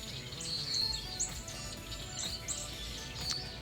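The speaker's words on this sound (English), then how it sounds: "We have a tree full of red-winged blackbirds here" A tree full of red-winged blackbirds calls outdoors, with several overlapping high chirps and trilling notes over a faint steady background hum.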